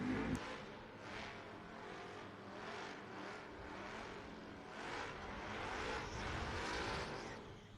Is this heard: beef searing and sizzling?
no